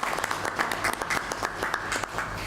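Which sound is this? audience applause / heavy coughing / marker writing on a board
audience applause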